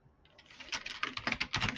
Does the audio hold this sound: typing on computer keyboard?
yes